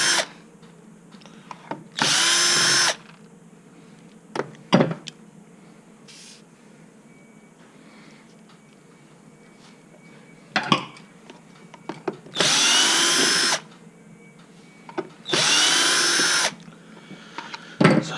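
A power screwdriver removes screws during a battery connection replacement, with several short loud whirring bursts separated by quiet handling clicks and pauses.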